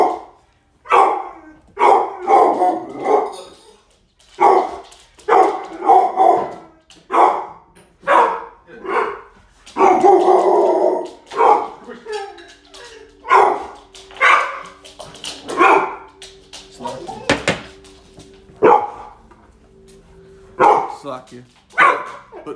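A small guard dog barks repeatedly in short, sharp yaps spread across the stretch, close by, mixed with someone talking throughout.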